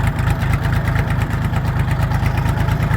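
A Kentavr 244SX mini-tractor engine pulling in raised first gear on rough off-road ground, a close, steady diesel chug with an even low pulse and no voices.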